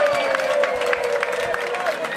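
A live crowd at a Halloween-special Brazilian rap battle claps and cheers in a dense, steady wash of noise, fairly loud and continuous, with a sustained tonal whistle or shout running underneath.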